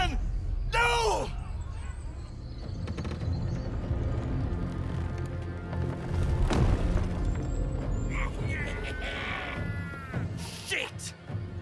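A loud cannon boom erupts amid battle noise in Baldur's Gate 3, followed by rumbling impacts, shouting voices and scattered clanks.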